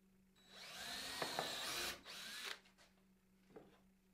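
A power drill spins up and runs for about two seconds pre-drilling wood for a bluebird nesting box, dips briefly, then whirs again before stopping, with a light knock afterward.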